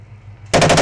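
Rapid machine-gun bursts from Bradley fighting vehicle crews during a military live-fire exercise, a loud close burst of evenly spaced shots beginning abruptly after near silence.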